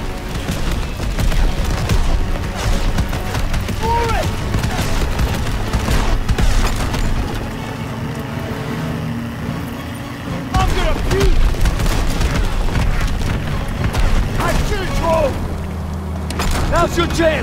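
An armored train in Call of Duty WW2 pours out heavy, continuous gunfire and booming blasts during a fast vehicle chase. The barrage is dense and loud, with shouting voices mixed through it.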